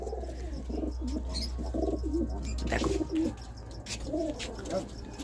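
Giribaz and Madras pigeons coo in a loft in soft, repeated throaty phrases close by, with a low hum underneath and a few clicks and rustles.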